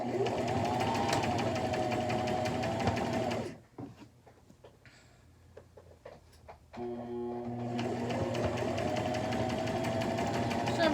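A sewing machine stitches a cloth burp cloth in steady, rapid runs, stops briefly with faint handling clicks, then starts stitching again, close and even.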